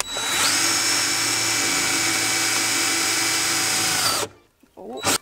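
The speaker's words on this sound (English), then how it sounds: "See if we can get these holes drilled." A power drill with a step drill bit boring holes whines loud and steady for about four seconds, then cuts off abruptly, followed by a few quiet handling noises.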